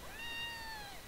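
A cat meows inside the Cattle and Crop farming game, giving one drawn-out, clear mew about a second long that rises and then falls, loud and close against a quiet background.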